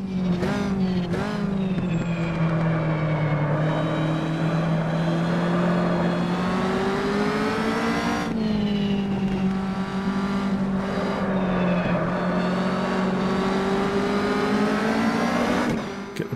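A Caterham racing car engine in Automobilista revs hard and loud through the gears, a sustained close roar rising in pitch, briefly dropping at a gear shift around the middle, then climbing again before cutting off.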